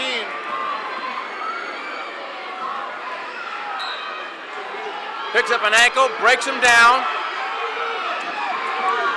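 At a high school wrestling finals in the heavyweight 285 bout, Sayreville fans roar in a continuous crowd din under an announcer's running commentary, with louder bursts of shouting and cheering surging up near the end.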